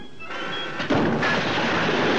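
A cartoon cannon fires a cannonball in a Daffy Duck and Speedy Gonzales duel: one loud, sudden boom roughly a second in, followed by a sustained, noisy roar.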